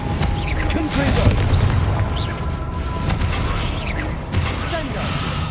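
A Confringo spell explodes in Hogwarts Legacy amid spell combat: booming blasts and crashes with whooshing effects and a rumbling low end, several impacts landing over a few seconds of dense, loud game noise.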